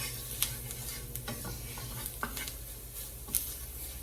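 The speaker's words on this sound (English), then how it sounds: "I'm just gonna saute these till they're nice and soft." Onions with smoked paprika sautéing in a pan without added oil, a soft, quiet sizzle under occasional faint clicks and scrapes of stirring.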